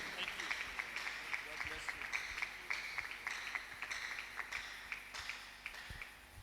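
A church congregation claps in a steady, rhythmic beat to welcome the pastor, with sharp repeated claps under a faint background voice across the whole stretch.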